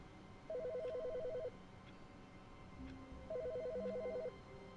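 A telephone rings in two electronic trilling bursts separated by a pause, faint and steady against quiet background hiss.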